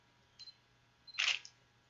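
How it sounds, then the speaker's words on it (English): Camera shutter firing at 1/2500 second: a faint early click, then one sharp, crisp mechanical snap, close and isolated in a quiet room. "you can literally physically hear your shutter speed."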